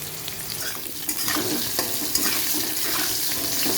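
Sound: teasel gourd (kakrol) pieces frying with salt

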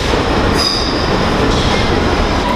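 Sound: London DLR train running

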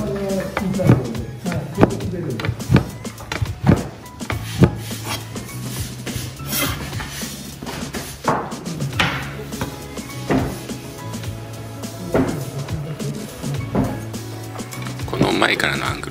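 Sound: knife cutting handmade soba noodle dough

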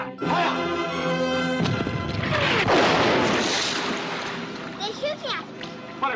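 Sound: naval gun firing a shot from a ship, in a film

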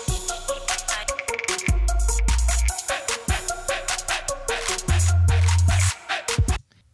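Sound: short song made from MVP loops in Studio One

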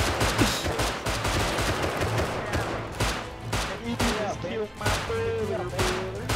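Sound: gunfire in the video game Rust

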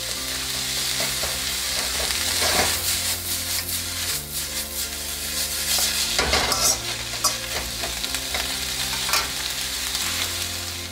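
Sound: stir-frying chow mein in a pan

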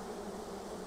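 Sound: honey bees agitated by smoke during hive inspection

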